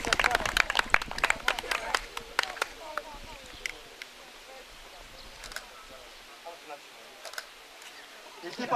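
Clapping at a youth team competition in Buțeni, crisp sharp claps from a few nearby people that thin out into sparse scattered claps, with people talking underneath.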